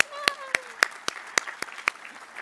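A small audience at a board of education meeting claps for student panelists, individual claps ringing out clearly in a loose, steady rhythm, with a voice briefly heard underneath.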